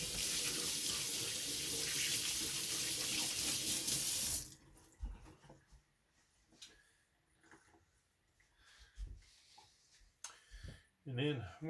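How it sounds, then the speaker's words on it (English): Hands are washed under a running kitchen tap, a loud, steady stream of water splashing for several seconds before it is shut off, followed by quieter handling clatter and brief movement. "wash my hands."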